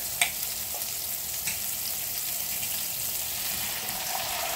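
Food sizzles and crackles in olive oil in a frying pan, a steady, quiet frying hiss with a few small pops and clinks, heard close with no talk.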